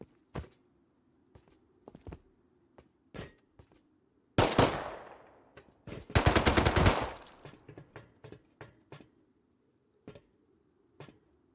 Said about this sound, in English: Gotta love the nail gun kills.